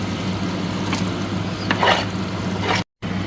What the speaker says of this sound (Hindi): अब अच्छी तरह मसाले को थोड़ा भूनना है। अब मैं इसमें कीमा ऐड कर दूँगी।